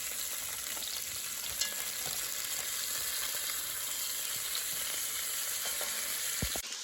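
Beef bones for bone broth frying in butter in a pot, giving a constant, even sizzle with soft crackles, fairly quiet, followed by a brief clunk at the end.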